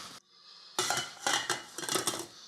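Metal mixing bowl set onto a stand mixer, a quick scrape followed by a series of ringing clanks and rattles close by, with no speech.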